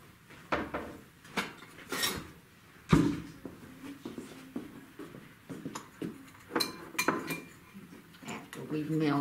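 A spoon knocks and scrapes around a bowl while heart cookie batter is mixed in a kitchen, in irregular soft clinks with quiet background noise.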